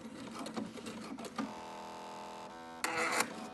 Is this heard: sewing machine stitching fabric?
yes